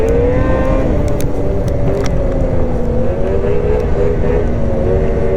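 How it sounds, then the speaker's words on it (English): A BRP Lynx Xterrain 900R snowmobile idles loudly and close, its engine rising and falling through repeated throttle blips with no talking. "I'm blipping the throttle real similar, and I'm going to not talk, kind of like I did on the 600RR, so you can hear the difference."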